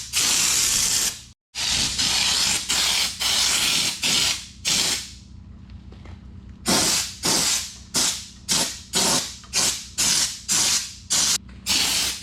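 Raptor bed liner base coat sprayed onto a Honda Pioneer 700 side-by-side, with about sixteen sharp, loud hissing spray bursts close up, separated by brief pauses and one longer gap midway.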